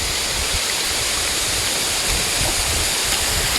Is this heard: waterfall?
yes